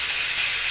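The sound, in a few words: pork slices frying for humba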